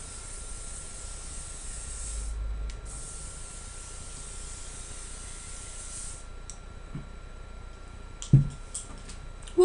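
Salon-finish extra-hold hairspray sprayed onto hair in a vintage pin-up style, a long steady aerosol hiss followed by a few shorter bursts and light handling clicks, close and fairly quiet.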